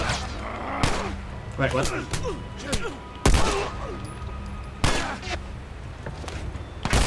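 Sharp gunshots crack in a tense firefight in The Last of Us Part 1, with several loud, spaced bursts and echoing booms scattered across the stretch while someone speaks briefly between them.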